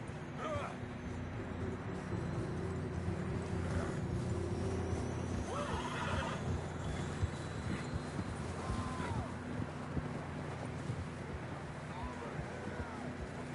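Faint horse whinnies and snorts from the video game Red Dead Redemption 2 rise over a steady wind-like rumble, with soft hoof sounds scattered throughout at a distance.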